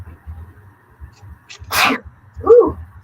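A single close, loud human sneeze bursts out during a craft session making a heart shaker box, followed shortly by a softer vocal sound, over faint low background noise.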